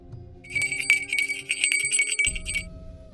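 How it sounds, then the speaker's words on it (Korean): A bright bell rings repeatedly in close, sharp strokes, each ring leaving a metallic shimmer, set as an eerie sound effect for a Korean ghost story with a low ambient drone underneath. "그때 또다시 종소리가 울려 퍼졌고"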